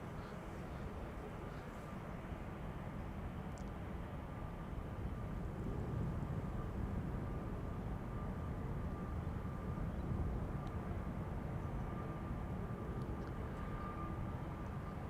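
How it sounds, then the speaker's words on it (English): Two Airbus A350-900 airliners take off one after the other at Amsterdam Schiphol, a steady distant jet roar rumbling low and rising slightly midway, heard alone without talk. "Two consecutive A350-900s"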